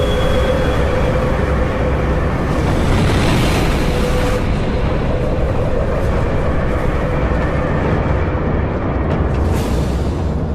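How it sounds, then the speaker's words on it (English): A huge supernova explosion as a massive star dies, heard as a loud, continuous deep rumbling roar with a steady rushing texture throughout, swelling slightly in the middle. "When massive stars, 10 times heavier than our sun, die, gravity crushes them, creating a huge explosion,"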